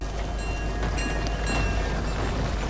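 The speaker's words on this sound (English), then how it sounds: "Oh, train." A train rolls past in a video game, a steady rumbling rail noise with a low drone and faint metallic squeals and tones on top, moderately loud and continuous, with no talk.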